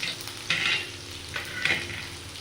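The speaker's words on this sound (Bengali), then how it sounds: "এগুলো আমি হালকা একটু জাস্ট ব্রাউন কালার আসা অবধি এটা একটু ভেজে নেব" Chopped ginger and garlic fry gently over low heat in a pan, a soft steady sizzle with a few brief stirring scrapes, close by and without talk.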